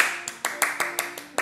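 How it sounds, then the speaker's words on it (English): Seven sharp hand claps land at a brisk, slightly uneven pace, each crisp and close, with a child's or teacher's voice sustained in the background during a classroom game. "Clap your hands."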